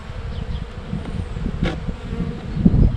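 A steady, low hum of honeybees buzzing in a tree trunk colony, fairly soft and continuous, swelling slightly louder toward the end.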